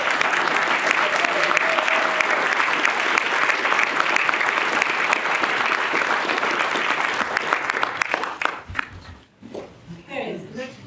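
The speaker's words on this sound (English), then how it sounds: "If we could have a nice round of applause for all of you." A debate audience in Texas gives a sustained round of applause, dense steady clapping that fills the room for several seconds before thinning out into scattered claps and murmurs.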